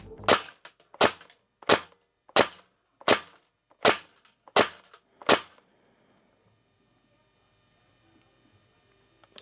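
An airsoft replica gun with a drilled nozzle fires eight sharp, evenly spaced BB shots through a chronograph, each a crisp loud crack, followed by near silence.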